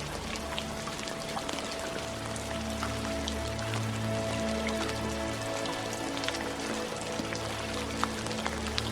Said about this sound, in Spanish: Nota cómo la lluvia